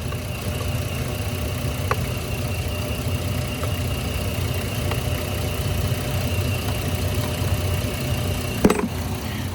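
A car engine idles steadily with a low, even hum, and a brief clunk near the end; no one speaks.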